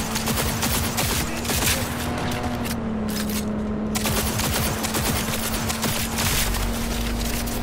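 Dense gunfire from a gun in the video game Cyberpunk 2077, broadband bursts running steadily through the clip over a constant low game hum, with no talking.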